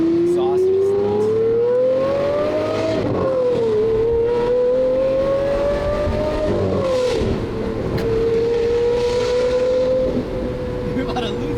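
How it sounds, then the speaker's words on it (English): A big, clunky car with a very loud exhaust drones steadily while driving, its engine note rising and dipping with throttle changes, loud and close throughout. "the exhaust on this thing is insane"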